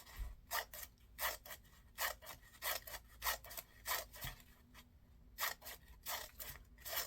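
Scissors make rapid cuts through folded book pages, a rhythmic run of about twenty short, crisp snips in quick succession, close and clear with no talk.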